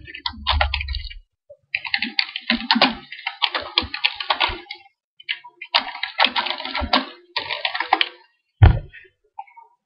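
Someone types on a computer keyboard while entering names and addresses for envelopes in Microsoft Word 2007. Close, crisp bursts of keystrokes are separated by short pauses, with occasional heavier key taps.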